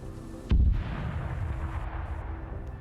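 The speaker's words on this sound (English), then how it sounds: "So you still have some airstrikes coming in." A heavy airstrike explosion in a war video game set in Chernarus hits with one sudden loud blast, then fades into a long, low rumbling roar of debris and distant impacts.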